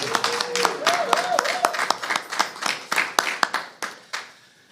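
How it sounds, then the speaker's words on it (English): Scattered clapping at a press event honoring Priority Waste as presenting sponsor of the Detroit People Mover, a modest group of hands giving uneven, separate claps that thin out toward the end, with a voice briefly heard early on. "Round of applause for them."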